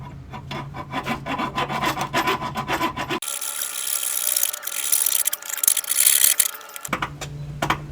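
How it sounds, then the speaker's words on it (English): Small hacksaw cutting a rusted steel brake line under a Chevy Tahoe, with rapid rhythmic rasping back-and-forth strokes, close and steady, changing to a brighter, harsher scrape in the middle before the earlier strokes return. "now I'm going to attempt to just cut the line with a little hacksaw here"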